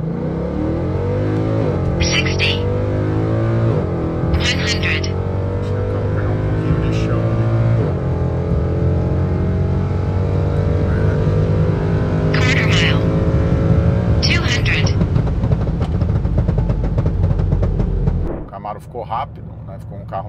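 A supercharged V8 Chevrolet Camaro SS accelerates hard, close and loud. The engine pitch climbs through several gears with clear shift breaks, and the roar drops away abruptly near the end.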